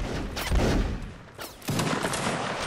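Musket volleys from a line of soldiers in a Napoleonic Wars game crack out in two or three broad, rumbling bursts of massed fire, each followed by a fading rolling tail of distant shots.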